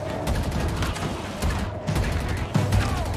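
Gunfire in Halo Infinite's campaign at the Dig Site, a dense spread of shots and impacts running throughout, with a few louder bursts standing out.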